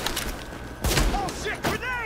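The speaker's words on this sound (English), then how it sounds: "Oh shit, grenade!" A grenade goes off in the shooter game Tom Clancy's The Division on PS4, with one loud broadband burst, a second hit after it, and gunfire mixed in.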